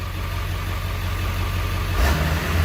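A Ford 7.3L Powerstroke diesel V8 from a 1999–2003 truck runs at high idle with a steady, close mid-pitched drone, then its pitch rises briefly near the end.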